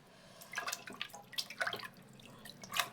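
Tap water splashes and drips while potatoes are washed in a kitchen sink, coming as faint, irregular bursts over a quiet background.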